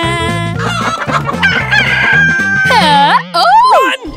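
A cartoon chicken in a children's toy-play video clucks and then crows loudly, rising and bending cock-a-doodle-doo calls up front over a bouncy music backing.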